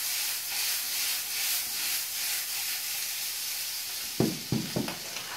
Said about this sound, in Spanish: seguimos salteando